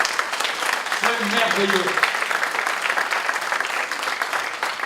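Worshippers at a church sermon break into loud, sustained applause that fills the room, while someone speaks briefly over the clapping.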